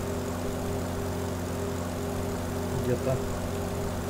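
The propeller engine of a Yak-18T in Microsoft Flight Simulator drones steadily with a constant hum, while a person talks over it.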